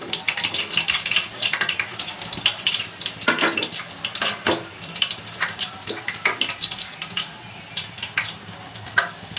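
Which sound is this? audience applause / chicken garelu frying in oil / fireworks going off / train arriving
chicken garelu frying in oil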